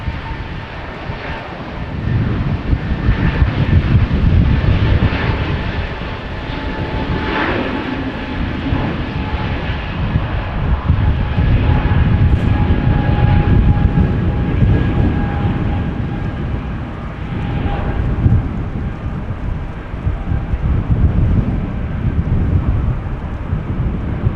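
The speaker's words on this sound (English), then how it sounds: "This is ITA flight 121 to Milan, which will be taking off soon. First the A320neo" An Airbus A320neo jet on ITA flight 121 to Milan takes off at Amsterdam Schiphol Airport, its engines giving a loud continuous roar with rumble and wind buffeting that persists throughout.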